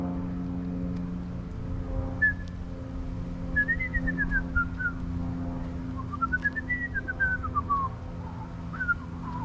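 A person whistles a short tune outdoors, a string of rising and falling notes in short phrases over a steady low hum of traffic or engine noise.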